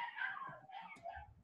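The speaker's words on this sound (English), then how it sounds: "Yeah, it's a dog." A dog barks and whimpers in the background, giving short yelping calls at moderate distance with no talk over them.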